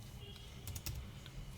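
A computer keyboard clatters as someone types out a database query, a quick burst of soft, close keystroke clicks in a faint, quiet room.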